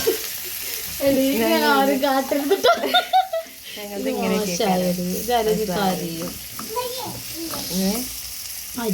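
Steady sizzling of sambar ingredients frying in oil before mustard seeds are added, running underneath someone talking and laughing nearby.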